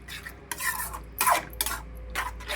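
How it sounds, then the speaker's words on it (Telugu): Gongura egg curry being stirred in a pan, with repeated scraping strokes of a utensil against the metal in bursts of a second or so, close and moderately loud, with no talking. "ఇది అంతా బాగా కలుపుకోవాలండి"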